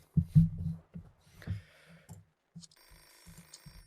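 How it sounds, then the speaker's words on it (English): A telephone rings in the video game Hello Neighbor 2, faint bursts of ringing arriving in spaced repeats amid low thumping footsteps and scattered game noises. "Answer the phone!"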